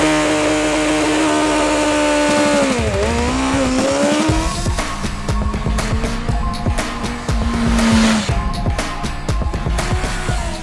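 A 2025 BMW S1000RR litre sports motorcycle being ridden, its engine howling loud and close with rising and falling revs through gear changes, a continuous high-pitched roar with no talk.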